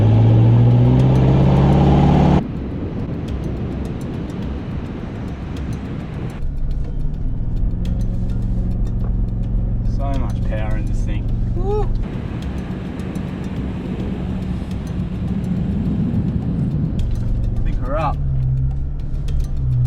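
A 4x4 with its center diff locked revs hard through soft beach sand, the engine note rising and surging loudly for much of the stretch as it pushes on, with a voice speaking briefly over it.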